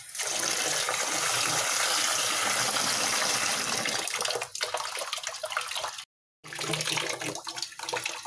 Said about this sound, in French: خاصنا نغسلوه مزيان حتى كنحيدوه حتى الماء كيولي شويه ترونسبارون